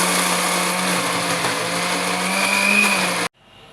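An electric blender grinds fried onions and yogurt into a paste, a loud steady whirring drone with a slight pitch rise before it stops abruptly and falls quiet.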